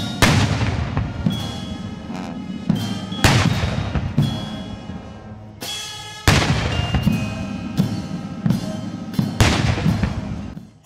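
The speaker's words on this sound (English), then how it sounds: "the president was accorded a 21-gun salute" Artillery guns fire a ceremonial 21-gun salute for the president at parliament, heavy booms landing one after another at a steady pace of roughly one every second or two, each echoing out over the open grounds with no talk.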